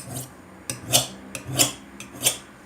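A metal file sharpens tweezers or scissors in slow, even strokes, four scraping passes with short gaps between, close and crisp.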